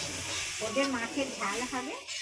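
A vegetable curry cooks in a wok in a home kitchen, giving a soft, continuous sizzle while a person talks over it.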